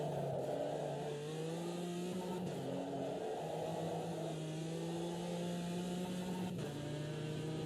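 Race car engine in Automobilista 2 held at high revs, a steady loud whining drone with pitch shifts at gear changes, continuous and close with no talk.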